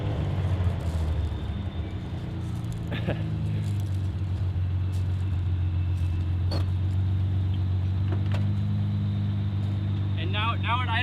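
A Datsun 280Z engine idling through a Fujitsubo-style muffler, a steady low rumbling exhaust burble running throughout, with a few sharp clicks and a brief voice near the end.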